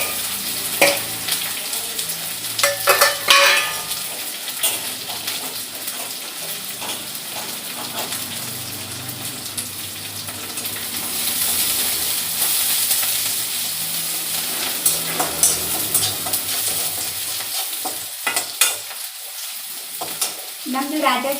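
Onion, cauliflower, green chilli and curry leaves frying and being stirred in a pan, with a steady sizzle under intermittent clinks of a spoon, a brief burst of running water and occasional background voices.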